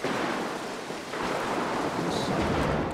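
Thunder rumbling through a stormy level of the stealth video game Mark of the Ninja, a loud continuous roll with rain-like hiss and a swell near the end, no voices over it.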